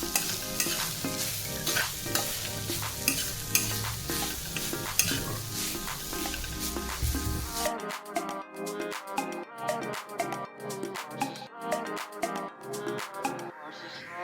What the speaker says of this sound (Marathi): त्यामध्ये किसलेले खोबरे टाकून घे आणि ते 5 ते 7 मिनिटे मंद आचेवर परतून घेऊ